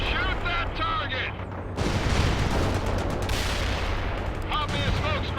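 Gunfire and explosions from the World in Conflict video game, dense rumbling bursts of shooting and blasts under radio-style voice callouts, growing louder and continuous midway through.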